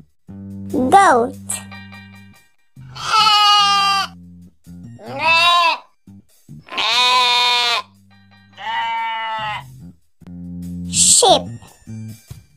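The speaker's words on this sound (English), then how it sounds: "Sheep." Several sheep bleats in a row, loud and close, with quavering, wavering cries separated by short pauses against a low steady hum, with no talk over them.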